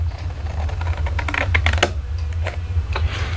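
Patterned craft paper for a sticky-note cube is cut along a score line: a close series of sharp, crisp snips and clicks in an uneven rhythm, with no talking.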